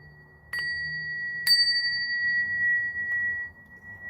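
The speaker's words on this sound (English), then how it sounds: "I'm going to ring a bell right now" A small bell rings out twice in close succession with a fainter third strike, each tone bright and clear and left to ring out against a quiet room.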